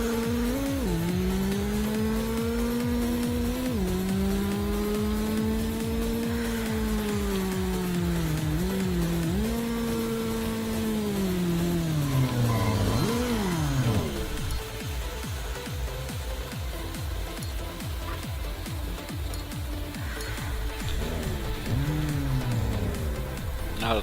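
A race car engine in Street Legal Racing Redline roars and revs through rising and falling gear changes for a sustained run, loud and continuous with tire noise underneath.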